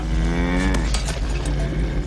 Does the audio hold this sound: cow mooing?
yes